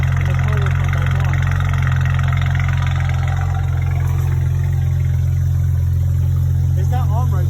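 A BMW N54 engine idles steadily with a strong low drone throughout, heard close with someone talking over it.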